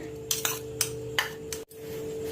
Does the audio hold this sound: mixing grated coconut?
yes